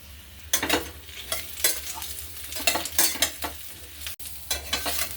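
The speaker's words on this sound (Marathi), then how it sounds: "इथे मी 2 मिनिटं मस्त परतून घेतलेले आहेत हे रताळाचे काप" Sweet potato slices sautéing in ghee in a wok: a soft frying sizzle beneath repeated bursts of stirring and spatula scraping against the metal, close and fairly quiet, with no talk.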